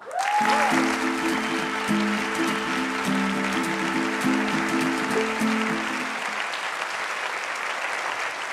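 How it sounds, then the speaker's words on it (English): Audience applause welcoming a speaker at a TED Talks Education event, a dense, steady clapping crowd that fills the space, swelling at the start and tapering off gradually toward the end, with no talking over it. "let's give it up for Dr. Ramsey Musallam"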